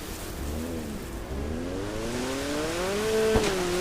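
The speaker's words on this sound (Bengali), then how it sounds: "আমরা এখন স্পিড বোটটা চালাবো" A speedboat engine pulls away and climbs steadily in pitch as the boat gathers speed. A continuous, moderately loud motor whine sits over a steady wash of background noise.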